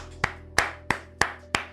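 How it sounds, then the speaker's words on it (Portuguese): A single person claps five times at a slow, even pace, with each sharp clap close and distinct against a faint background hum. "deixa eu até aplaudir"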